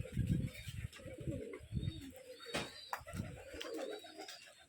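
Gerebaj pigeons on a Rajshahi pigeon farm coo in low, throaty pulses, close and repeated, with thin chirps above and a faint voice nearby.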